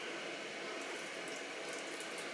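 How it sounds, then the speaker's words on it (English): Water drains from the deep fryer of a food trailer in a steady, close, hissing rush with no pauses, continuous throughout. "So let's drain what little bit of water is still in here."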